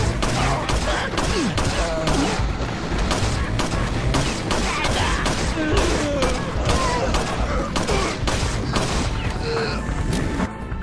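Shotgun blasts from the 1996 Resident Evil video game ring out amid a dense, continuous wash of game audio, with repeated sharp bursts layered over loud background noise throughout.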